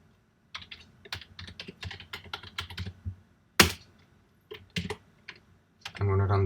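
Computer keyboard typing at a Linux terminal, entering a chmod command on a shell script: bursts of quick close keystrokes with short pauses, a sharp louder key strike midway, then a steadier noise at the end.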